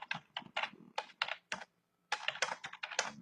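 Quick bursts of keystrokes on a computer keyboard, close and clear, with a short silent pause in the middle before the typing resumes.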